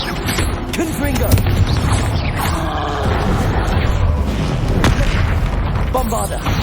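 Repeated fire-spell blasts from Confringo in the Hogwarts Legacy video game, a run of loud booming bursts over about seven seconds with crackling debris and background game action throughout.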